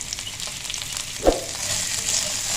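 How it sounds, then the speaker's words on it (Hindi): Slit green chillies frying with salt in a pan, producing a steady close-up sizzle with one brief louder knock or clatter midway, and nobody speaking. "ये जो हमने कट्स लगा के रखे, इनको हमने फ्राई करना है।"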